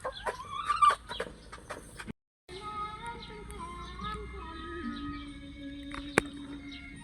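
Several chickens cluck and chatter nearby while being fed, with soft scattered calls and a brief gap before the clucking resumes.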